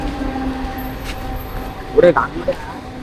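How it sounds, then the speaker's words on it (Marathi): A train rumbles past at crowded Nerul station with a low steady drone, busy crowd chatter and voices over it, and a few brief clanks. "बघू शकता ट्रेन चालली आणि या टायमाला गर्दी तर राहते"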